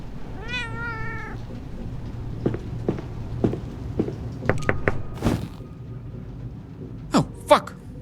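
A cat meows in a detective video game, one clear rising meow followed by footsteps, a door and other small game sounds.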